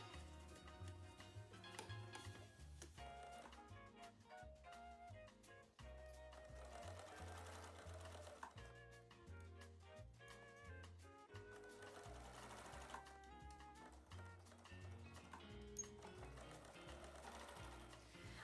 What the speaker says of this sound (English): I am ready to just continue sewing till I get to the edge here